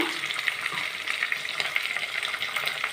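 Moringa leaves fry in hot oil in a pan, giving a dense, steady crackling sizzle that stays close and loud throughout with no pauses.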